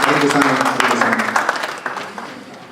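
A crowd applauds steadily, the clapping loud at first and then thinning out, with voices mixed in underneath.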